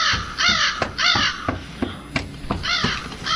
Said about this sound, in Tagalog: May malaking ibong uwak na lumilipad sa itaas.